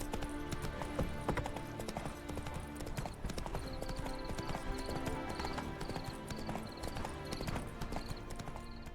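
A horse's hooves clip-clop in steady rhythm in the video game The Witcher 3, Hearts of Stone, loud and continuous over game music and ambience, with occasional faint whinnies.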